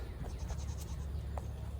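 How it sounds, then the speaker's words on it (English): A large nanny goat on a farm gives a short bleat, heard faintly against a steady background rumble with no talking. "she's our biggest nanny goat"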